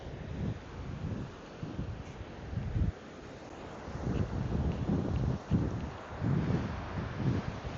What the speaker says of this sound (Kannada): ತುಂಬ ಗಾಳಿ ಸೌಂಡ್ ಕೇಳಿಸ್ತಿರ್ಬೋದೇನೋ.